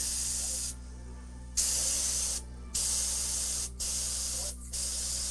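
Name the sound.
airbrush spraying paint on an oil painting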